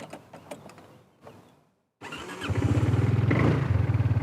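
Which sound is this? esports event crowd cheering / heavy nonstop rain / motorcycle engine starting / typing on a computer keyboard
motorcycle engine starting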